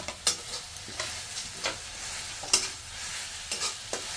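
Ginger garlic paste sizzles and fries in a pan for a village-style katla fish kalia, with a spatula scraping and stirring in sharp, irregular strokes over a steady hiss.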